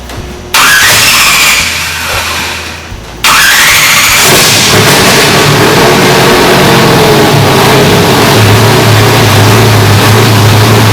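An asphalt late model race car engine fires briefly, cuts out, then starts again and roars loudly, settling into a loud idle with revs. No one speaks.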